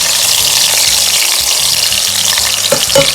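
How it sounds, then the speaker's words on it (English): Grated and diced onions sauté in a pan for Nigerian pepper sauce, making a loud, close, steady sizzle with a few stirring scrapes near the end and no talking. "So basically, I'll just saute the onions"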